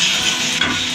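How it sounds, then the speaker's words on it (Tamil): Tomatoes sauté in a pan for a rice and lentil dish, a loud, close hiss of sizzling with a quick stirring scrape partway through. "தக்காளி கொஞ்ச நேரம் வதங்கினது"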